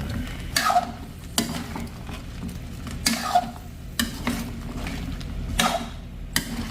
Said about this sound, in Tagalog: Saka natin haluin po ito.